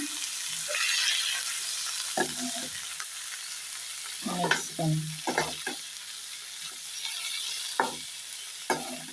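Boiled green peas being stirred into onions and dried chillies frying in a pan, a low sizzle with scattered clinks and scrapes of a spoon against the pan, close and without talking.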